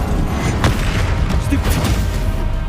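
A Confringo blasting spell in a Harry Potter video game fires with a dull boom and crackling burst, set against continuous heavy game noise and effects.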